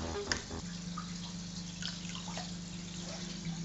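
Water trickles and splashes as it is poured into a saltwater aquarium, with a few drips near the start over a steady low powerhead pump hum.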